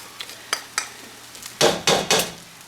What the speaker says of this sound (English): That spoon is kind of scratching it